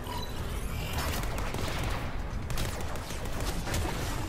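Dense, steady gunfire from the Warframe shooter game, a continuous fusillade of rapid shots with mechanical clatter running throughout at moderate level, no voices.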